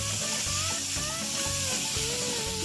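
Pasta with oregano leaves simmering in a pan on the stove, giving a steady, close sizzle and bubbling frying sound with faint stirring, with no voices over it.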